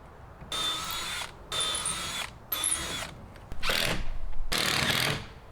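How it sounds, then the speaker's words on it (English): A power drill drives a screw into a wooden fence post in five separate whirring bursts, each about a second long with short pauses between them, close and fairly loud with the last burst the longest. "This time I'm gonna throw a screw into the post"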